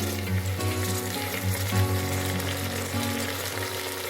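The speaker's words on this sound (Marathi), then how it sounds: "तेही छानपैकी तेलामध्ये परतून घेऊया।" Chopped tomatoes sauté in hot oil for spiced masala rice, giving a steady, close sizzle with soft bubbling crackle throughout and no voices.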